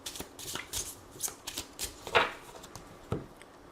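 Tarot cards shuffled by hand for a reading, a string of crisp papery flicks and slaps up close, steady and fairly quiet, with no voices.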